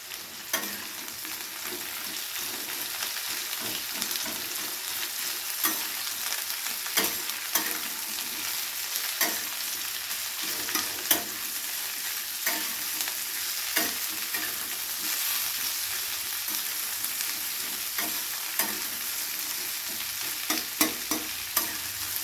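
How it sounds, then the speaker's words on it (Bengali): Onion, potato and bitter gourd fry in hot oil while a spoon scrapes and stirs them, so a steady close sizzle runs under repeated sharp clinks and scrapes, with no talking. "পেঁয়াজ, আলু আর উচ্ছে একসাথে ভাজা হয়ে গেছে।"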